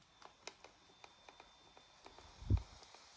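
Loose keys on an Anbernic Win600 gaming handheld rattle with faint, sparse little clicks. One duller knock stands out near the end.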